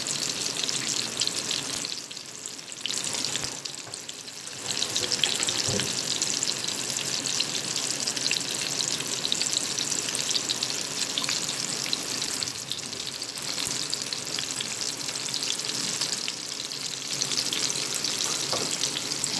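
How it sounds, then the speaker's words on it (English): Meatballs sizzling and frying in a pan, a loud, steady crackling hiss with occasional soft pops and brief dips as food is turned. "Isn't that a nice sizzle?"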